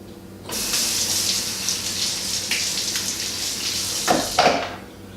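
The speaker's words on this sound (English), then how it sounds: "Now all I got to do is top it off with water and shake them up." Tap water runs into a glass jar of spicy pickles with vinegar, red pepper flakes and garlic, a steady close hiss of pouring that begins abruptly and stops after a few seconds with a couple of splashy surges near the end.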